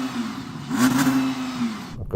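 An Audi R8 supercar engine on a winter-tyre test day rises in a smooth rev, holds a steady whirring tone, then tails off and cuts out.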